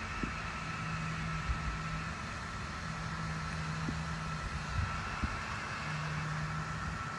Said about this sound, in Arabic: اسمعوا صوت المروحة، هاي المروحة عشان تبرد على الشمس اللي في يدي أنا